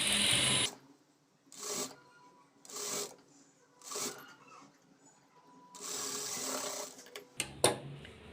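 A sewing machine stitches a lining blouse in short bursts: several quick runs of under a second, then one longer stretch and a final brief burst, with quiet gaps in between.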